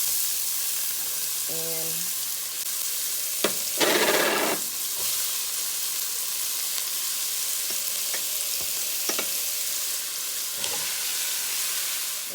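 Vegetables sizzle and fry in a pot for oxtail stew, a steady crackling hiss with a brief stirring burst and a few clinks, one word spoken at the start.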